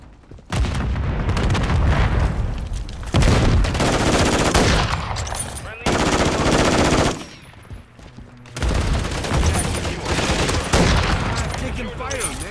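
Loud, sustained automatic gunfire in a video game tears through in long bursts, broken by short pauses between volleys.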